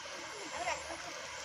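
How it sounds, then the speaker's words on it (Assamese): Floodwater from a swollen river, its banks collapsing into the current, makes a steady, faint rushing hiss, and a brief voice rises over it for a moment. "কেনেকুৱা আৱাজ ওলাই আছে চাওক পানীৰ।"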